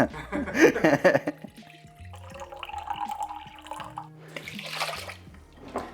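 Water is poured onto short-grain rice for sushi rice, giving splashy bursts and trickling pours in separate runs with quiet gaps between them. A few faint clinks sit under the water.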